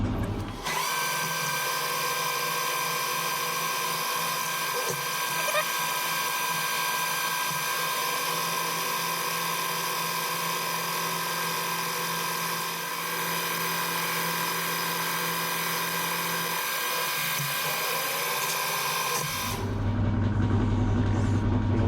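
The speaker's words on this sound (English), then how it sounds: "Just going to run the fly cutter over these," A fly cutter on a milling machine skims the side of steel vice jaws with a steady, loud, high whining drone that holds for about twenty seconds, then drops to a different machine hum at the end.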